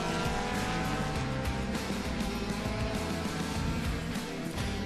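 Race cars at Virginia International Raceway roar continuously through a full field of around twenty cars, engines loud and dense with layered revving and passing drones, a few bursts of tire noise, no talk.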